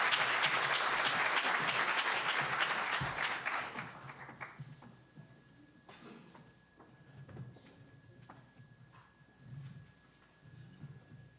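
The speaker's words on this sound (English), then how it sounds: "Give them a round of applause, please." Audience applause for candidates at a bipartisan community forum, strong clapping for the first four seconds that quickly dies away into quiet room noise with scattered small knocks and movement.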